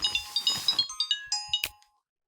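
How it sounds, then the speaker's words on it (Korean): A mobile phone rings with a bright, repeating electronic melody of short tonal notes, close and clear, ending abruptly after about two seconds. "혜주의 휴대폰이 울린 것은 그때였다."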